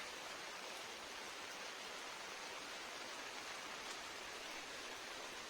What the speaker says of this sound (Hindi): वर्षा बहुत जोर रे होउची